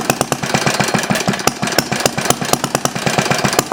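Small Briggs engine with a glass cylinder head and a small added flywheel, running close by with rapid, even, loud firing pulses in a steady chugging rhythm.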